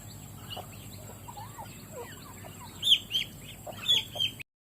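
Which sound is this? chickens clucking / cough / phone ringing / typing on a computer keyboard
chickens clucking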